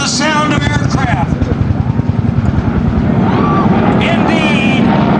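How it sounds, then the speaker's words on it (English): Aircraft at an airshow droning overhead with a loud, pulsing propeller-like rumble, and an announcer talking over the engine noise throughout. "the sound of aircraft"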